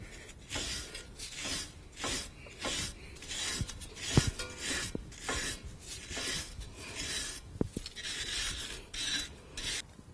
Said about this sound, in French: Avec la brosse métallique, je vais brosser à l'extérieur